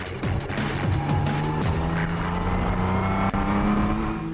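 An off-road race car in the 2011 Stoneybrook 250 drives hard over rough ground, its engine droning loud and continuous from an onboard position with rattles and bumps throughout.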